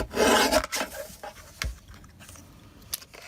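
Paper being trimmed for a heat-embossed stamped Christmas card: one close, rasping cut in the first half second, followed by a few fainter scraping and tapping sounds, with no talking.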